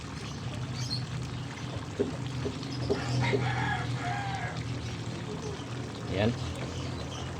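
Thick tomato paste poured into a pot of simmering pork rib caldereta in a home kitchen, a soft, brief glopping pour beneath steady talking, with a few light clinks from the pot.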